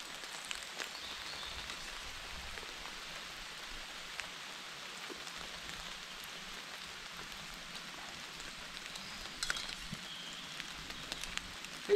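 Rain falls steadily in a forest, a soft continuous patter on surfaces with scattered louder drops. No thunder stands out.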